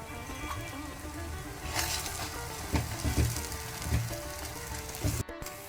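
A quiet, steady frying sizzle from a pan while spices are dry-roasted for a Mangalorean silver perch and raw mango curry, with a few soft stirring knocks and a brief clatter near the end, and no talk.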